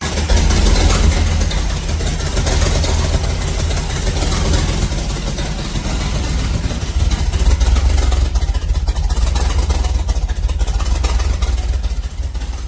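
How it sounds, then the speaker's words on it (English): A Chevrolet Nova with a 307 V8 and temporary mufflers runs loud and rough at idle during an early fire-up, a constant heavy rumble with slight surges throughout, close by. "this is our second fire up of the Nova with the 307"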